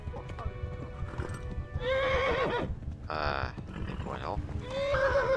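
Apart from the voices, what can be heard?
horse neighing and hooves in Kingdom Come: Deliverance video game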